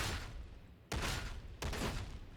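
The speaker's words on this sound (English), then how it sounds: "you can quite happily just tear it apart with the gun" Bursts of heavy gunfire from the Ogryn's gun in Warhammer 40K: Darktide, two loud sustained volleys of rapid shots following a decaying earlier burst, harsh and close.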